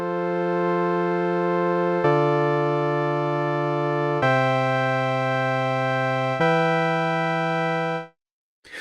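Polygrid synth patch with a sawtooth oscillator running through a filter and envelope, playing four long, bright, buzzy sustained notes in a row, each changing pitch, then cutting off abruptly; clear and alone.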